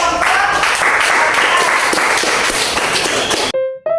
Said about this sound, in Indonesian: beri aplaus untuk kelompok